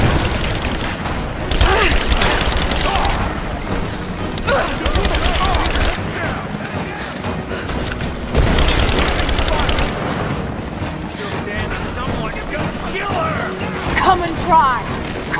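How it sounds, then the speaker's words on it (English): Dense bursts of automatic gunfire and heavy volleys from the video game Rise of the Tomb Raider, loud and close, repeating in sustained waves with booming impacts and voices shouting over the battle. "Covering fire!"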